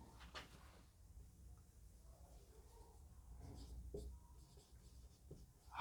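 Marker or chalk writing on a classroom board, soft scratchy strokes in short bursts with a few taps, close by, while a teacher's voice is faintly present.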